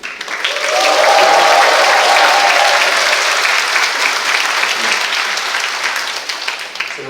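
A large indoor audience at a 35th-anniversary ceremony for social welfare civil servants bursts into loud, sustained applause with cheering. The clapping swells within a second and holds steady and dense for about seven seconds, easing only slightly toward the end.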